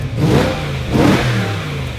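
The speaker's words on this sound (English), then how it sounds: "That's the engine, right?" A BMW E9X M3 with its S65 V8 and a valved exhaust revs hard twice, the loud engine swelling and falling back with no talking over it.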